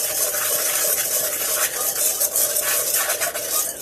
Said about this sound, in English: And I'm going to mix the cinnamon and the sugar